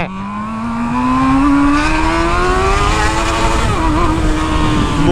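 A Honda Hornet motorcycle revs hard and loud close by, its engine note climbing steadily and then holding a high, screaming pitch before dipping slightly.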